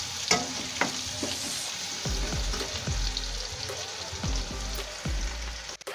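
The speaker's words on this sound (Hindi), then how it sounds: "प्याज को हमें ज़्यादा नहीं भूनना, बस हल्का सा ही भूनना है, हल्का पिंक होने तक ही।" Onions fry lightly in a pan for poha, a close, crackling sizzle broken by repeated scraping stirs of a spoon in a loose rhythm.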